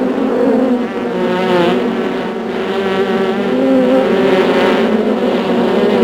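Honeybees in a hive whose queen has just been removed, a loud, dense, continuous buzzing swarm with a wavering drone and no voices.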